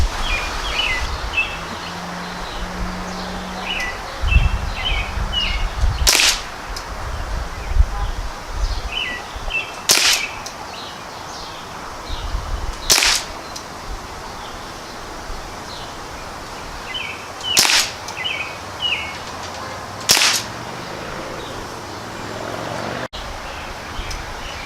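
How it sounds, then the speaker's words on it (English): A Crosman CO2 pellet gun fires five sharp, evenly spaced shots at targets outdoors, each a crisp pop several seconds apart, with birds chirping and leaves rustling in the background. "we're going to shoot a couple of targets. We're going to put 5 shots each on it"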